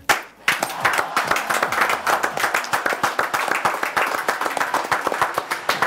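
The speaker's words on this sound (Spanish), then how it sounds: "La ovación es tremenda" A crowd breaks into sustained applause and clapping at a pre-match event for Unión vs. G. Cruz, welcoming Adrián Brodsky. The ovation is dense and continuous, with occasional voices mixed in.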